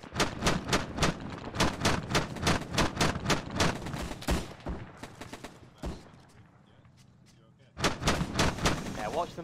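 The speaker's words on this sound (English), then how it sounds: "it's burst fire, interesting" Rapid bursts of gunfire from a WWII-style video game weapon, loud and close, repeating in quick clusters for several seconds, then a brief lull before firing resumes; voices can be heard faintly beneath.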